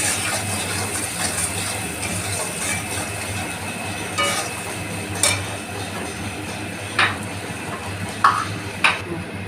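Pabda fish curry with salt stirred around in a pan: a continuous, fairly loud bubbling sizzle with a low rumble, broken by occasional scrapes and light knocks of the spoon against the pan.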